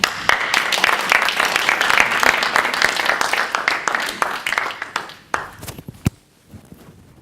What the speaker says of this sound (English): Please give a huge round of applause to Jane.